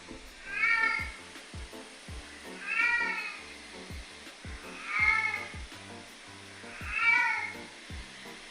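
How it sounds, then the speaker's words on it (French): A house cat meowing loudly at night: four long, drawn-out yowls spaced evenly about two seconds apart, slightly distant, over faint recurring low thumps. "J'ai mon chat qui gueule la nuit."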